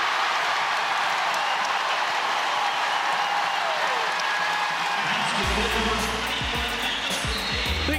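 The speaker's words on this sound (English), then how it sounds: "the crowd was just waiting to make a little noise" Crowd at an NCAA women's tournament basketball game between Chattanooga and NC State erupts in loud, dense cheering and applause after a made basket, a roaring wall of noise that stays strong throughout, with faint court sounds near the end.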